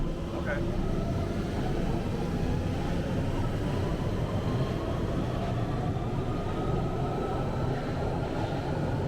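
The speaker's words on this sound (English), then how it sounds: "This is a Central Line train to Haynock via Newbury Park." A London Underground Central Line train rumbles steadily along the track with a loud, continuous roar and rattle heard from inside the carriage.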